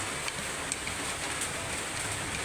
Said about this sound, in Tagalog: Umuulan dito sa amin.